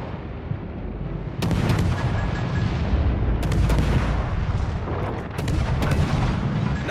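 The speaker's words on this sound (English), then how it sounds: "All stations, concentrate fire on the target." Warship guns firing in World of Warships: Legends, a rumbling barrage of heavy booms that start as a single blast, then roll in overlapping volleys over a constant low engine drone.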